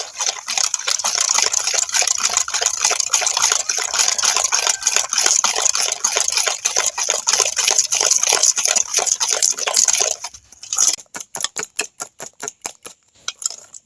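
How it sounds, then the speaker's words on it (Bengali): Egg and sugar are beaten together in a bowl for semolina biscuits, making fast, steady rhythmic whisking strokes that clink and slosh. Near the end the pace slows into separate, sharper taps. "চিনি আর ডিমটা আমি ভালোভাবে মিশিয়ে নেবো"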